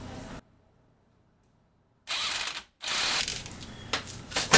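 A ratchet tightens a bolt on the front strut of a 2006 Toyota Sienna, heard as two bursts of quick metallic clicking separated by a short pause, close and fairly loud.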